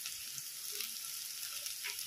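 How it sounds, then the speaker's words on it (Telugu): Onions frying in a pan with ginger garlic paste for a cabbage tomato curry, a soft steady sizzle with faint stirring, quiet and alone without talk. "అల్లం వెల్లుల్లి పేస్ట్ వేసుకున్నాక బాగా కలుపుకోవాలండి. బాగా ఫ్రై అవనివ్వాలండి ఆనియన్స్ని."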